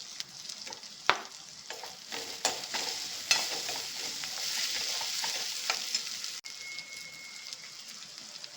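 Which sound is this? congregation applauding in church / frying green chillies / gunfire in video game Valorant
frying green chillies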